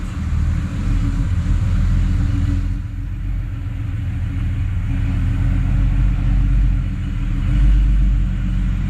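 A 1993 Porsche 911 Jubilee rolls in slowly, its engine giving a steady low rumble that stays close and even, swelling slightly near the end with no talk over it.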